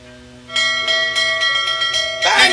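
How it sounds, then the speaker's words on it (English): A bell rings in The Whispered World video game, giving a sustained, resonant tone with pulsing strikes that swells louder. A brighter, noisier clang closes it. "Are you ringing the bell again?"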